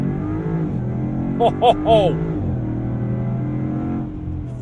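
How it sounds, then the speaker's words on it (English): A 2022 Land Rover Defender 90 V8 in sport mode with traction control off, its engine a steady, loud drone heard from inside the cabin under hard acceleration, while a voice gives a short excited shout over it. "I'm gonna move the selector over into sport. I'll then just, why not, turn off traction control."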